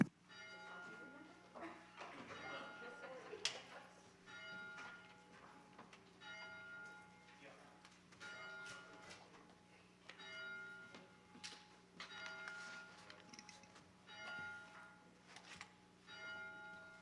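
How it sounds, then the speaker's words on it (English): A child rings a church bell to open a Sunday morning service, with several clear, fairly quiet strikes whose tones ring on and overlap throughout, while soft room sounds and occasional voices sit underneath. "We'll begin our service this morning with the ringing of the bell."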